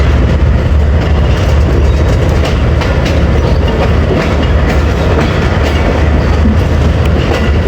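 The 38 DN Baba Fareed Express pulling out of Lahore Junction, heard from on board as a loud, continuous rumble of the railcars with steady clickety-clack from the wheels on the track.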